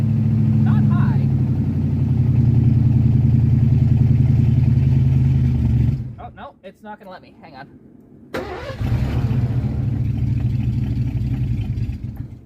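A 1982 Mercury Capri's cold engine runs and revs in winter, a loud low throbbing drone that drops away, leaving cranking and sputtering, before it catches and rumbles again; someone talks over it.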